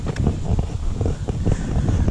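Strong gusting wind buffeting the microphone in an outdoor town setting as a front pushes in ahead of a hurricane, a loud continuous rumble with rustling surges throughout.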